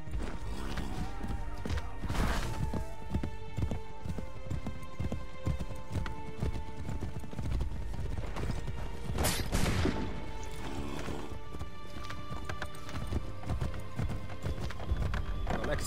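Horse hooves pounding in Assassin's Creed III, a steady rhythmic clatter running throughout over busy game ambience, with a couple of louder crashing bursts along the way.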